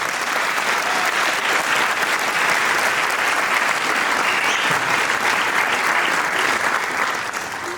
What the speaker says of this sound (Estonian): Suur aplaus teile õpetajad!